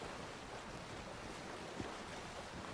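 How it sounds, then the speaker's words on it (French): Ocean waves in Sea of Thieves make a faint, even wash of water and wind-like rush, low and continuous, with no other sounds over it. "t'as les vagues, en fait, elles te portent en même temps."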